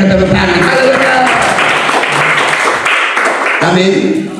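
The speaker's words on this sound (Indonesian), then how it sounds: "Berikan tepuk tangan." A congregation claps at a Christian worship service held in an apartment in Jakarta, producing loud, dense, sustained applause that fills the whole stretch, mixed with scattered voices.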